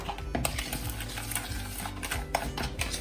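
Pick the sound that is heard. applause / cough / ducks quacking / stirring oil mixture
stirring oil mixture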